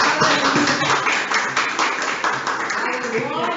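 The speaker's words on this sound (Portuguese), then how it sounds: "Aplauda ao Senhor, aleluia." A church congregation claps in praise during a Portuguese-language worship service. The clapping is dense and continuous, mixed with voices and crowd noise, loud and close throughout.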